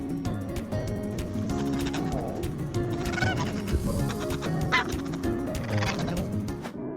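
A busy flock of ducks and geese quacks and honks continuously, several birds calling over one another close by.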